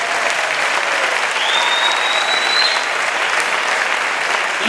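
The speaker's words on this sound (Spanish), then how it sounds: "Un aplauso para ellos, por favor." A packed festival audience applauds the cast and crew of the horror film Lobos de Arga at the Semana de Terror 2011 closing ceremony, with dense, loud, sustained clapping throughout and no talking.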